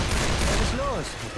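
Bursts of gunfire ring out in the zombie shooter Left 4 Dead 2 under a player's excited talk, with rapid shots layered over game noise and a short sweeping whine fading out.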